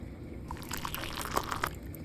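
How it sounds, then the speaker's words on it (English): Water pours into a bowl of oatmeal in a brief, faint splashing trickle lasting about a second, with no talking. "That's not enough water. I'm going to add some more."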